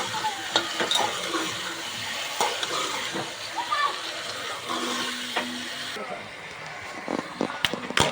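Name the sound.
sautéing meat together with vegetable in pan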